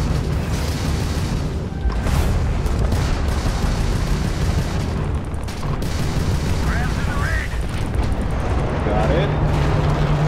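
A missile strike and explosion in the space game Starfield fill the clip with a dense, loud, sustained roar and rumbling booms throughout, with brief faint electronic tones over the top.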